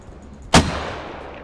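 A single mortar firing in the video game Squad: one sharp, loud launch thump with a broadband crack, followed by a long fading rumble tail, no talk.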